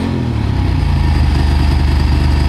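A 1995 Ducati 900SS SP motorcycle engine idles steadily and loudly up close, a low rumbling pulse with no talking over it.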